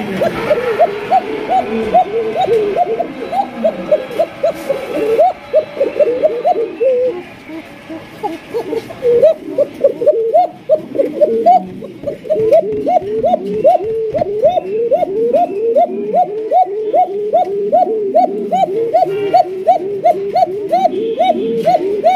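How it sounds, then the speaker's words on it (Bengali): Pigeons in a loft coo in steady rhythmic runs of low, throaty calls, close and fairly loud, with several birds overlapping and a brief lull near the middle. "এই যে দেখেন দুইটা বাচ্চা সহকারে কিন্তু আপনারা এই জোড়া সংগ্রহ করতে পারবেন"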